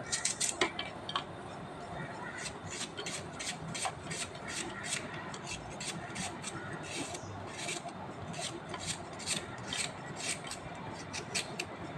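Rapid, even taps of a knife slicing thinly against a board, a quick regular rhythm, fairly close and soft.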